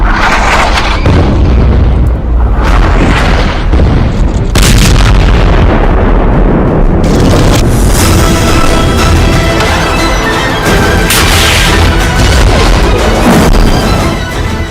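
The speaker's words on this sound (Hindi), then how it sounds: "इजराइल लेबनान बॉर्डर पर दागी गई एंटी टैंक मिसाइल। पहला फायर, टारगेट खत्म।" Anti-tank missiles fired at the Israel-Lebanon border: a loud, continuous barrage of heavy booms, blasts and crashing impacts, one after another with no pause.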